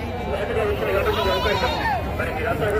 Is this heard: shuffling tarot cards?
no